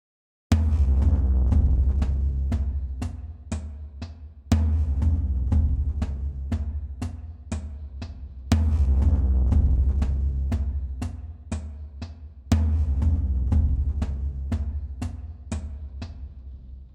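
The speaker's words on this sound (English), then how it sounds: "This is a loop. This is the It Won't Stop preset" Sample Logic Drum Fury 'It Won't Stop' preset drum loop, a distorted booming pattern of heavy low hits with crisp upper strikes, restarting every four seconds in four identical cycles, alone and moderately loud.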